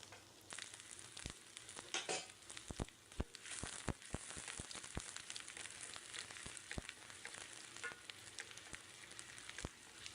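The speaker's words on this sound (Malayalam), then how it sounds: "ചെറുതായി കട്ട് ചെയ്ത് വെച്ച ചെറിയുള്ളി ഇട്ട് നല്ലപോലെ മൂപ്പിച്ചെടുക്കാം." Small chopped shallots sizzle and crackle as they fry in coconut oil for a Kerala fish curry, with a steady frying hiss broken by sharp pops and spatters, fairly quiet and with no voices.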